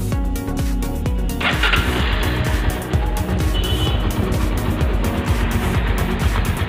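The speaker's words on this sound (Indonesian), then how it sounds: "Kita bisa dengar suaranya, suara mesinnya. Coba kita nyalain." A 2010 Honda Tiger Revo motorcycle engine cranks and fires, then settles into a steady, close, rapid-pulsing idle.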